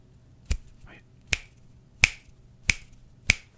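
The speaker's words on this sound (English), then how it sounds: "I was experimenting with some snapping, and so kind of just snap like that" Finger snapping done with both hands together: five crisp, close snaps spaced roughly evenly apart, each sharp and bright against a quiet background.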